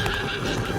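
A stallion neighs in an audio drama, a brief mid-loud whinny layered over dense ambient sound and faint hoof movement, with no clear speech.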